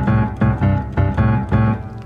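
Solo piano plays blues note pairs in a swung rhythm, the chords falling in long-short groupings, with clear repeated strikes and no voices.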